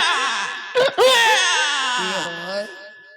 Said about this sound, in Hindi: अरे इधर मेरा बच्चा रो रहा है,